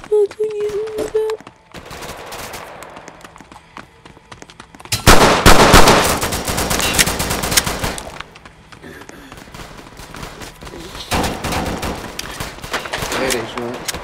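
Glock 20 pistol fire in the Roblox-style game Chicago Remastered, with dense bursts of rapid shots loudest in the middle stretch and further volleys near the end, mixed with game noise and a short tone at the start.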